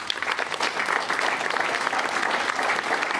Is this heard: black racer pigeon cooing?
no